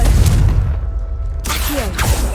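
A Confringo fire spell bursting in the Hogwarts Legacy video game, a loud low rumbling blast that rolls on, then a sharper whooshing burst with a brief pitched magical swirl near the end.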